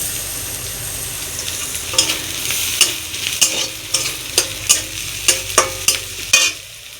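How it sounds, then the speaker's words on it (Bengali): Onion and ginger frying in a pan, stirred with a spoon: continuous close sizzle broken by a regular run of sharp scraping knocks against the pan, with no voices. "এবার দেবো আদা,"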